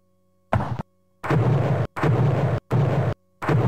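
Artillery fires in The Great War 1914-1918, a First World War strategy game: four loud, booming blasts roll out one after another, each lasting about half a second, separated by brief silences.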